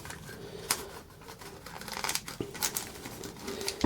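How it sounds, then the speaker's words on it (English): Register paper from the journal roll of a Casio SE-S3000 cash register rustling and crinkling as it is threaded through slots on the take-up spool spindle, with a few sharp crackles and taps close up. "The paper feeds through two slots on the centre spindle of the spool"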